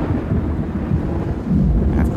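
A heavy thunderstorm over Ohio on a September morning rolls with deep, rumbling thunder and dense rain, a loud continuous low roar that swells slightly near the end, with no voices.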